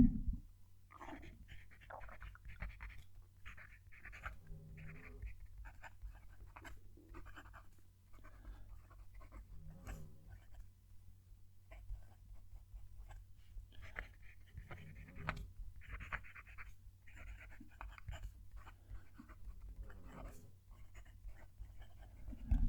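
A fountain pen with a 1.1 stub nib writing on paper, faint close scratchy strokes in repeated short bursts with pauses between, alone over a low steady hum.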